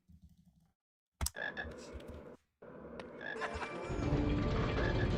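Frog croaks in a video game, a loud burst near the start followed by repeated croaking that grows denser and louder toward the end, with a short silent gap in the middle.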